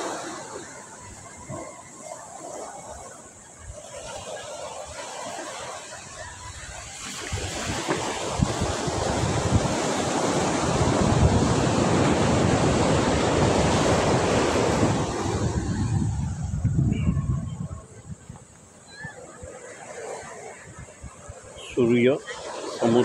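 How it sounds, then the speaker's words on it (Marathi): Surf and wind at Sagareshwar Beach in Vengurla, Konkan, Maharashtra, at sunset. The wash of waves builds into a louder, fuller roar midway and then eases, with a voice briefly at the end. "हा मस्त छान समुद्रकिनारा आहे"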